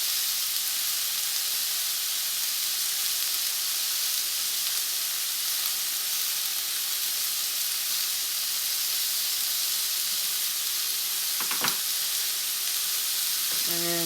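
Red peppers fry over high heat in a hot pan, a loud, steady close-up sizzle and hiss throughout, with a brief clatter of stirring near the end.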